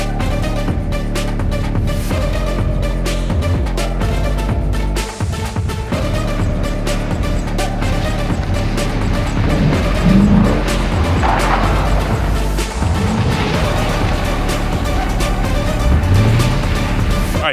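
A Lexus car laps a race track in pouring rain, its engine droning loud and steady throughout with rising and falling revs, and brief tire squeal and spray under the continuous motor roar.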